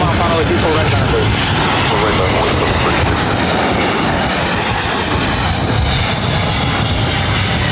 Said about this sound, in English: This is Spirit Airlines 595 coming in from Oakland.